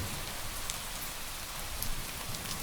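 Steady rain falling and pattering on surfaces, an even wash of close drops with no voices, continuous for the whole stretch.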